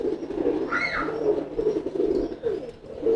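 Male homing pigeon cooing repeatedly in low, throaty rolling calls while driving a hen, close by, with a brief higher chirp partway through.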